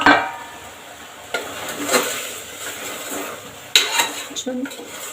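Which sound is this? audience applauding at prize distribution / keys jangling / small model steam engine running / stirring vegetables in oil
stirring vegetables in oil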